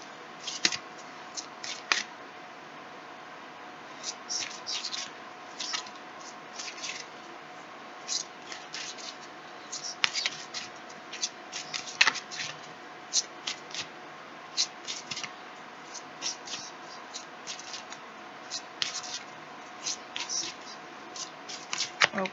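Tarot cards being shuffled by hand in a quiet room, a steady run of crisp papery riffles and flicks repeating irregularly across the whole stretch, close and moderately soft with no talking.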